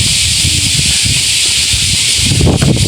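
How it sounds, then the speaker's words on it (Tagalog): Strong wind at Jougashima roars steadily and loudly, with gusty low rumbling and a constant bright hiss. "Lakas ng hangin nga eh"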